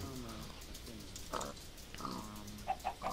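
A pig in Minecraft gives several short grunting oinks, fairly close, scattered across a few seconds, followed by quick clicky game sounds near the end.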